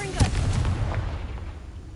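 A Confringo blasting spell goes off in a Harry Potter video game, a loud booming burst near the start with a crackling tail that fades into rumbling background noise.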